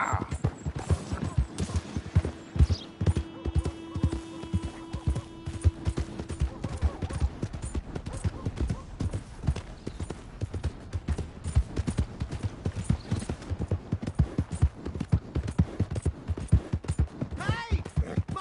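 Horse hooves clip-clop steadily in Red Dead Redemption 2, a continuous rhythmic trot of close, distinct hoofbeats, with game voices and a brief tone in the background.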